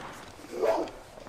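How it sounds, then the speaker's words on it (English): An excited dog gives a single short bark at moderate distance, a brief burst in the middle of a quiet indoor space. "That dog's excited."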